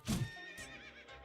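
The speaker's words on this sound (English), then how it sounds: "That guy was a horse! I could have ridden him!" A horse neighs loudly in a Dark Souls-style video game, one shrill whinny that trails off into fainter, wavering snorts, close and alone.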